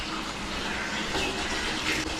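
Tap water runs steadily into a bath at home, a continuous, even gush of moderate loudness with no voices.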